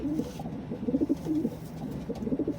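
Pigeons coo close by in a run of soft, throaty, repeated calls, with short pauses between bursts and no voices.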